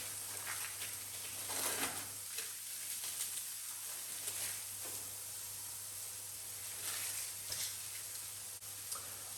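Vegetable beefburgers topped with cheese fry in a pan, giving off a steady, quiet sizzle and hiss with small crackling bursts throughout.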